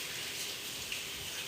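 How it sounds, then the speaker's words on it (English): Running tap water rushes steadily and evenly as hands are washed beneath it, a continuous close hiss with no pauses. "Let me give my hands a quick wash."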